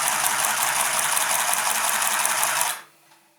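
A Silvercrest handheld sewing machine runs with a steady, loud, fast mechanical buzz close by, then stops abruptly near the end, leaving near silence.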